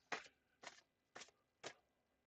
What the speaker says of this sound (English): So here are your 10 official shuffles.